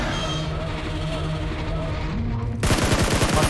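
Rapid automatic gunfire in the mobile battle-royale game PUBG Mobile bursts in loudly near the end after quieter game ambience, a fast rattling string of shots.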